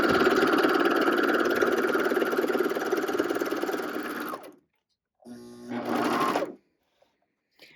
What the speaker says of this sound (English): I'm going to lower that foot, and I am going to sew.